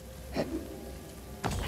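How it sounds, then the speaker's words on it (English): Faint, steady rain ambience in the video game Blue Fire: a soft, continuous hiss of falling rain with a couple of brief, slightly louder swells. "It's raining! Nice ambiance."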